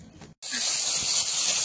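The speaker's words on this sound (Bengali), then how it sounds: "প্রথমে এক ভাগ মাছ ভাজা বসিয়ে দিয়েছি" Fish frying in hot oil, a sudden loud steady hiss and sputter that starts right after a brief quiet gap and holds close and continuous.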